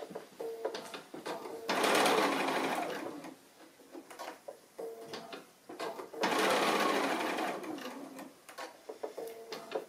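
Sewing machine stitching along a drawn line on fabric flower petals for a pin cushion, running in two loud, steady bursts of a few seconds each with quieter pauses between.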